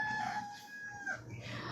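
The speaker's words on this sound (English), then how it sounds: "My rooster's already crowing at my door." A rooster crows loudly and close by, a single sustained call with rising and falling harmonic tones over faint background noise.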